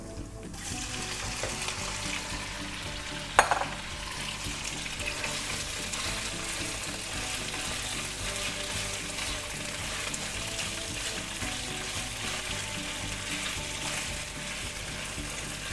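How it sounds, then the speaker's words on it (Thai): Pork belly fries with garlic in a pan for a stir-fry with bean sprouts, giving a loud, continuous close-up sizzle with stirring and one sharp clatter near the start. "เอาหมูเขาใส่ได้ เลยจ้า กระเทียมได้ทีแล้ว"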